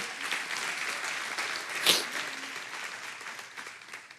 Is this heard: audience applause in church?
yes